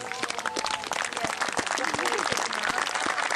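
Outdoor audience at Fort Henry Days applauds reenactors taking the field, dense continuous clapping from a crowd that holds steady throughout.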